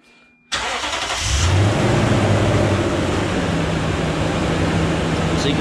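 A Toyota Tundra engine idles steadily right after starting, close and loud with a constant mechanical hum and faint whine, running alone during a transmission fluid change.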